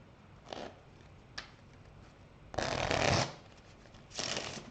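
Playing cards shuffled and handled at a table, with two brief riffles followed by a longer, louder shuffle lasting about a second and a final burst, close by and with no talking.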